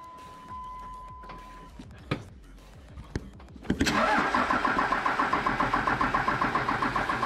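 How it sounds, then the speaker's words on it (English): A 12 valve Cummins 6BT diesel with a P-pump cranks over after a few clicks and knocks, catches and settles into a loud, rhythmic, clattering idle. "I'm gonna start it up and make sure there's no leaks"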